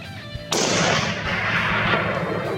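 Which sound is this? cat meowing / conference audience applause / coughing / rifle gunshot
rifle gunshot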